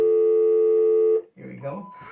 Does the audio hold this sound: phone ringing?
yes